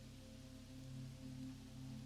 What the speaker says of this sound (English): deeper than the sound of the rain